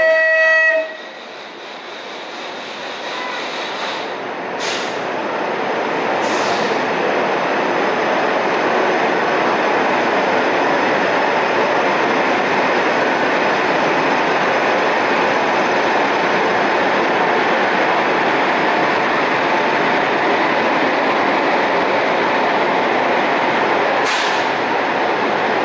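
The Prayagraj Jaipur Express arrives at a station platform during shunting, with a brief horn blast at the start, then a loud, continuous rumble of rolling carriages and short squeals over it.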